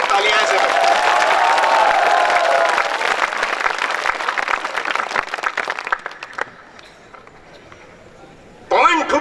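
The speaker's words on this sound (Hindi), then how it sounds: "एक बार जोरदार तालियां बजा के दिखाओ" Loud, dense applause from an audience at a 2015 night kavi sammelan poetry recital held at the Swami Keshwanand educational institute, steady for several seconds, then thinning out and fading, with a voice briefly at the end.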